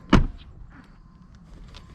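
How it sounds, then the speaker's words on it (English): A 2021 Tesla Model S Plaid door handle is pushed so it pops out, making one sharp mechanical clunk near the start, then quiet low rustling and faint whirring until a soft knock at the end, with no voices. "you just push, pops out, and then you can open the door and access the vehicle"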